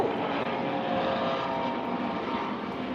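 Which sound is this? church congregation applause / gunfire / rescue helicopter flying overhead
rescue helicopter flying overhead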